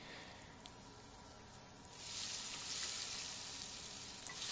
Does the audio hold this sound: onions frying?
yes